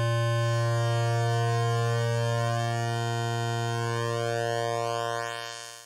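A Virus TI synthesizer wavetable oscillator holds one steady, buzzy tone while its pulse width rises, the timbre sweeping and thinning as shifting harmonics glide across it before the note fades out at the end.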